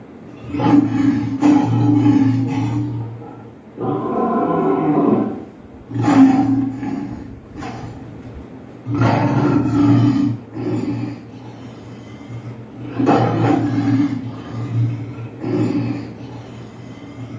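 A lion's roar played back through an Alexa smart speaker, several long, loud, rumbling bursts separated by short pauses, heard indoors close to the device.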